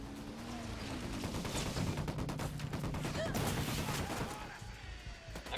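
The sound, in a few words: gunfire in video game Ghost Recon Wildlands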